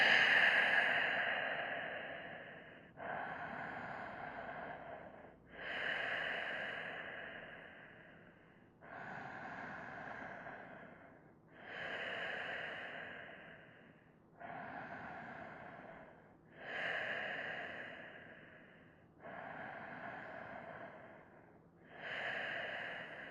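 Slow, steady breathing during a relaxation pose at the end of a yoga flow: soft nasal inhales and longer exhales repeat about every three seconds, close and quiet, with no talking.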